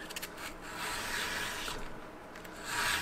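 An edge beveler is rubbed steadily on fine 800–1000 grit emery cloth, giving a close, continuous soft scraping that swells slightly at the end.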